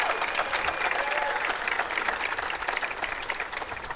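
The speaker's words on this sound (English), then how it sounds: "How about a round of applause for our students and the pep band?" An audience gives students and a pep band a full round of applause at a university announcement event, a dense, continuous roar of many hands with light crowd noise.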